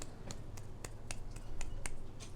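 Repeated one-handed finger snaps ring out at a steady, fairly quick rhythm, about nine crisp clicks close by against a quiet room with no talking.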